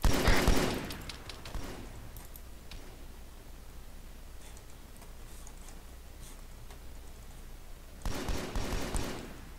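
Gunfire in an Arma 3 jungle firefight, a loud close rattle of automatic shots at the start and again near the end, with softer distant pops and a low rumble between.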